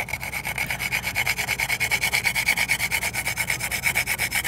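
Nutmeg is grated against a metal grater in a kitchen in a quick, regular scraping rhythm of short rasping strokes. The strokes are close and fairly loud, with no voices.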